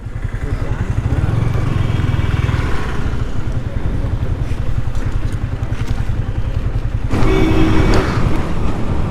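A Yamaha R15 V3 motorcycle is ridden on a road trip toward Kodaikanal, its engine droning steadily and loudly under rushing wind noise, with the pitch rising slightly near the end.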